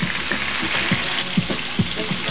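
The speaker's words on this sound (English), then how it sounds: "Now these meatballs are going to be turned on 4 sides in this oil." Meatballs sizzling steadily in hot frying oil, with a continuous close crackle and a few soft bumps as they are turned in the pan.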